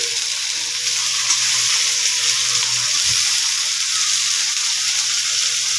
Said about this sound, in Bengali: মশলা দিয়ে ফুলকপিটা ভাজা হয়ে গেছে